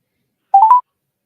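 A phone keypad sends three quick tones in a row, close and clear, as someone dials a call, with silence before and after.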